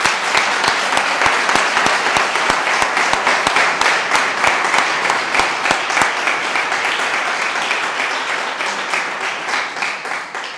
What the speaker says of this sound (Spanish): yo os pido un aplauso para él, que se lo merece.